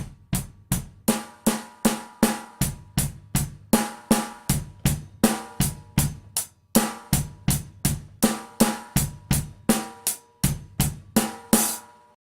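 A steady rock drum groove, crisp hi-hat eighth notes over alternating kick and snare, played alone at a moderate tempo.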